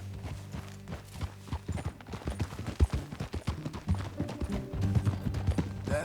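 Horse hooves clip-clopping in the video game Red Dead Redemption 2, a steady walking rhythm of close, distinct hoofbeats with faint ambient sound beneath.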